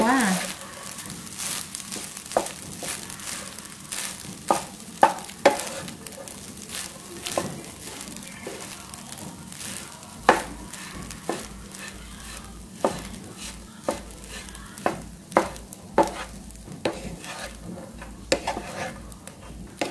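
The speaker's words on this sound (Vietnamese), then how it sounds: "cái chảo rất là nóng, mình sẽ đảo đều cơm luôn" Chicken-fat rice is tossed in a very hot pan, with repeated scraping and clacking strokes of a spatula over a continuous light sizzle, the strokes coming in an uneven rhythm close by.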